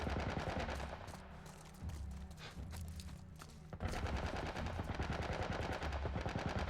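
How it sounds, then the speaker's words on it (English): A military turret in The Last of Us fires long rapid bursts of machine-gun fire, loud and continuous, with a brief pause before the firing resumes even harder. "Some kind of military turret."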